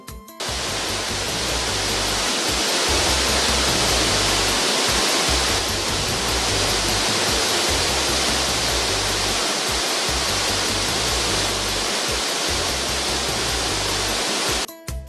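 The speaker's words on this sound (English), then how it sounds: "the volume of water splashing does not even allow one to get to the bottom of the fall" Waterfall in full flood during the rainy season, heavy water crashing and splashing continuously as a dense, roaring wash that stays loud and steady from start to finish with no voices.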